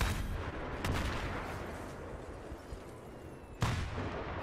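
Rocket and artillery fire in a World War II 8v8 multiplayer match on the Seine Crossing map, a continuous dense rumble of distant blasts with sharper booms near the start, around 0.9 s and at 3.6 s, no talk.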